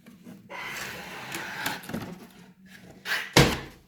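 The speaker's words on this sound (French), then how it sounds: "On y va pour le déballage, donc c'est parti." Cardboard packaging for an iRobot Roomba 671 robot vacuum is opened: close rustling, sliding and scraping of the box and flaps, ending in a sharp thump as something is set down or pulled out.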